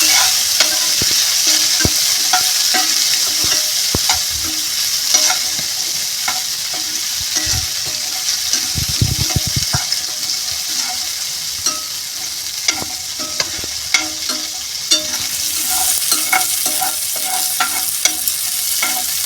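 Fresh green peas sauté in hot oil for aloo matar vada, giving a steady close sizzle with repeated scraping stirs, one heavier stirring burst midway, and no talking.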